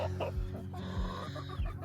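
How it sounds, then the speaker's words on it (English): Young chicks in a chicken tractor on a farm cluck softly and repeatedly at close range, with short low bursts of fowl calls spaced through a quiet outdoor morning. "So we currently have the chicks."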